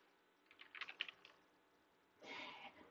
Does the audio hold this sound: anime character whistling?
no